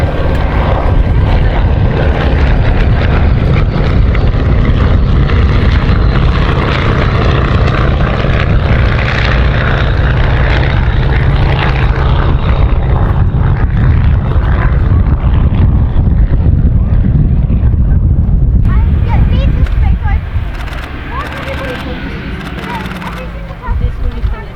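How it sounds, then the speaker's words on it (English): A Bristol Blenheim vintage aircraft flies at an air show, its propeller engines producing a loud, continuous roar that eases off near the end as it passes, with a commentator talking over it. "But what a simply spellbinding performance in the aircraft restoration company Blenheim by their chief pilot, John"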